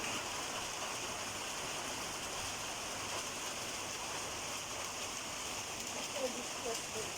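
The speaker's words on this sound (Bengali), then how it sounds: "দর্শক বৃষ্টি হচ্ছে অনেক" Heavy rain falls steadily and evenly, a faint, distant wash of broadband patter with no breaks, heard outdoors.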